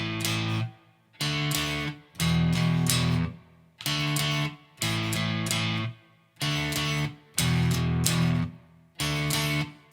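Distorted electric guitar power chords chug out a riff in short repeating bursts, loud and close, with brief silences between each group of strums.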